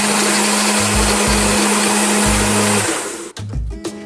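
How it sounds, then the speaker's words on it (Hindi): A kitchen mixer grinder blends cold coffee with a loud, steady motor whir and a rhythmic churning pulse, running alone for about three seconds before winding down and stopping with a brief rattle. "मिक्सी में चला लें"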